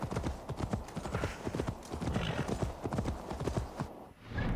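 Rapid clip-clop of horse hooves in Assassin's Creed Valhalla, close and steady, with a brief whinny-like texture and faint background noise.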